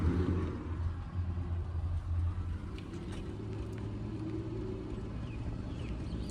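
A truck engine rumbles low and steady while pulling away onto a motorway after a roadside hotel stop, a heavy drone with some road noise, moderately distant-sounding and without speech.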